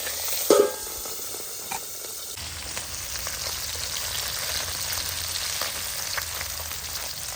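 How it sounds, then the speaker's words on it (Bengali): Tengra fish frying in hot oil in a pan, a continuous bright sizzle that crackles evenly throughout, close by, with a clatter of a utensil or lid near the start and no talk. "तेल गरम हो गेছে, এবার আমি মাছগুলো ভেজে নেব।"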